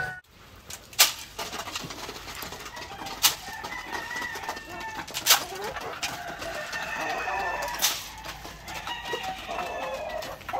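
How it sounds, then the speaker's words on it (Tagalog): Barred Rock and white leghorn chickens cluck and call in a farm breeding pen, with several sharp clucks standing out over steady low background bird sounds and a person speaking. "nandito tayo sa breeding pen ng ating Barred Rock at saka white leghorn"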